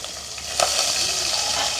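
Mustard seeds, fennel, fenugreek and onion hitting hot oil: a sudden loud sizzle that settles into a continuous, close crackling hiss.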